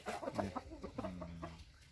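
Chickens clucking on a Thai poultry farm, a handful of short, close clucks and one drawn-out call within a couple of seconds, fairly quiet with no talk over them.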